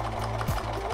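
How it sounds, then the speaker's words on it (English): A sewing machine stitches along the edge of a quilted pot holder, giving a close, steady motor hum with a rapid needle rhythm and a brief surge midway. "And then I'm gonna sew just along the edge, secure it all at the edge before I put on the ribbon around the outside."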